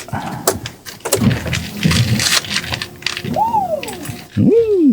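A metallic key slides and clicks into a Ferrari's ignition with a few ratcheting clicks, followed by rising electronic chime tones; close and fairly loud.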